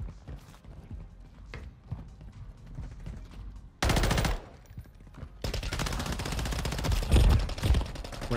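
Gunfire in Modern Warfare 3: rapid automatic bursts crackle and rattle, with a loud dense burst near the middle and sustained heavy firing toward the end, mixed with game mechanism clicks.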